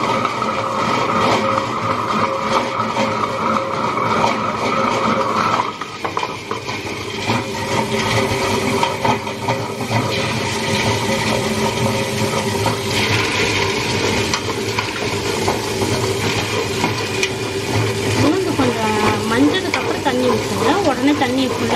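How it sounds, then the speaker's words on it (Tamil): A wet grinder churns soaked urad dal into idli batter, giving a steady mechanical whir and grind throughout. Someone talks over it almost continuously. "உளுந்து ஃபஸ்ட்டு அரைச்சிக்கலாங்க"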